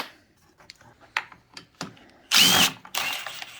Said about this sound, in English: A small Phillips screwdriver.